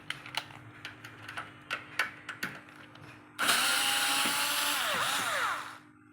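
A screw being driven out of the top cover of an HP LaserJet 1020 printer: a run of sharp ticking clicks, then a loud, close, steady whirring grind for about two and a half seconds before it stops.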